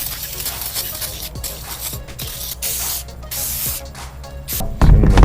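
Brake cleaner sprays in repeated hissing bursts around the headlight area of an old OBS Chevy/GMC truck. Short clicks and knocks come between the bursts, and a louder rough blast closes the sequence.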